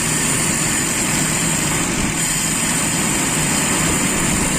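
A car engine held at raised RPM with a rough, uneven idle and sluggish pull, a loud, steady close-up drone that stays constant throughout with no talking.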